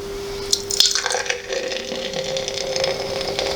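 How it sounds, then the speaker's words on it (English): Beer poured into a glass for a review of a Northern Monk tangerine beer, with liquid splashing and fizzing steadily close by, a few sharper drips and clinks early on, and a faint steady hum underneath. "doing the beer reactions pour here"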